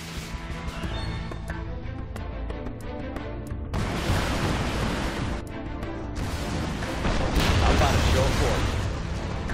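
Artillery fire booms repeatedly in the Command and Conquer real-time strategy game, dense rumbling blasts building over several seconds, with unit voice lines spoken between them.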